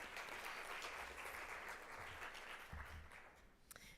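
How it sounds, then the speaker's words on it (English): Audience applause at the Education 2.0 Conference in Dubai, a sustained wash of many hands clapping that gradually thins and fades toward the end, with a few scattered final claps. "Let's give them another round of applause."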